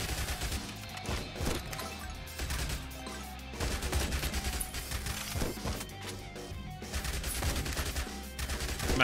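Rapid SMG gunfire from the video game Yet Another Zombie Survivors, dense stuttering bursts mixed with crashing impacts and thuds, loud and sustained throughout.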